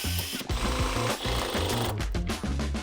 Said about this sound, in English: I can just pre-drill a couple holes and screw the slide in place